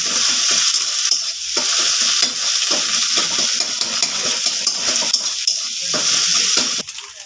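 Three cracked eggs sizzle loudly in a hot pan while a spatula stirs and scrapes them into a scramble for egg chowmein. The frying hiss is steady and close, broken by repeated scraping strokes.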